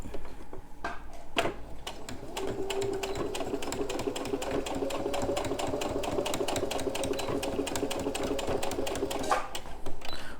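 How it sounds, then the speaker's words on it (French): A sewing machine stitches a steady seam on a small fabric jewelry pouch, running continuously for several seconds with a rapid, even rattle, close and loud with no speech. "Hop, je me centre ici, hop, et on va faire une petite couture."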